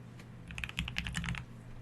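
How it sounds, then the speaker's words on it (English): Quick keystrokes tap on a computer keyboard while an email address is entered into a caregiver app, a short close burst of about a dozen clicks over steady room hum. "we can just type in their email"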